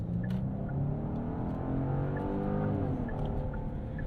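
A 2022 Genesis GV70 Sport Prestige SUV with a 375-horsepower engine accelerates hard to 60 mph, its engine tone rising steadily under a constant loud drone of wind and road noise heard from inside the cabin.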